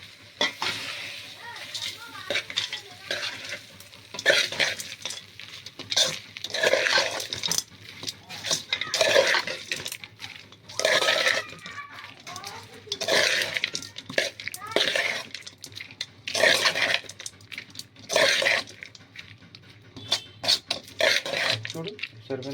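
Tamarind rice (pulihora) with green chillies being stirred and mixed in a pot, giving repeated scraping, rubbing strokes in bursts throughout, fairly close, with faint background talk.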